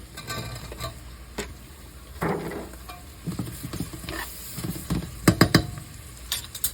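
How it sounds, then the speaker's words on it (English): A pot of mushroom soup cooking on the stove, a steady bubbling sizzle broken by spoon scrapes and clinks, some clusters of quick sharp taps, close and fairly loud. "Let that simmer there for a minute."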